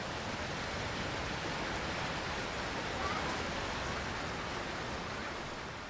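Steady, dense rain pours down continuously as a broad, even wash of noise without pauses, heard alone.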